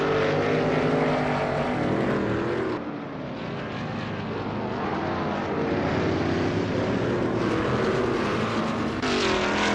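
An ASRL Veloce GTS-8 race car in a racing game drones steadily at close range, its engine holding a dense, continuous note with slight pitch shifts throughout.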